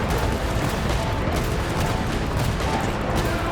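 Explosions and gunfire from Genshin Impact game combat, a dense, continuous barrage of rattling blasts and booms that never lets up, loud and close throughout.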